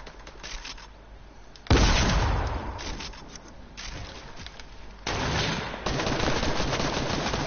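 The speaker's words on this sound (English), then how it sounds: "Oh, he's shooting me, aren't you?" Enemy gunfire in a shooter video game comes in dense rapid bursts, loud and continuous, with sharp onsets where new volleys begin.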